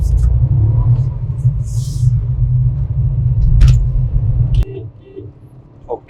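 A Skoda Kylaq car accelerating in second gear, a loud, steady low engine rumble that drops away sharply near the end, with voices talking over it.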